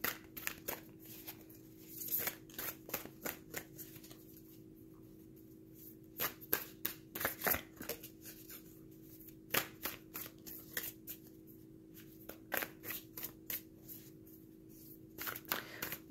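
Tarot cards shuffled by hand in repeated quick riffling bursts, close and fairly quiet, with a steady low hum underneath and no talking.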